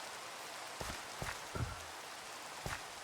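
Minecraft rain falls as a soft, steady patter in the game, with a few louder thumps and clicks scattered through it and no voices.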